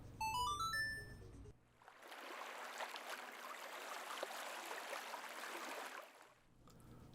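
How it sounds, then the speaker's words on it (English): A waterfall in Donkey Kong's Jungle Parkway, a Nintendo 64 racing game, gives a steady rushing hiss that fades in after a brief chime jingle and holds evenly before dropping away at the end. "The beautiful waterfall of Donkey Kong's Jungle Parkway."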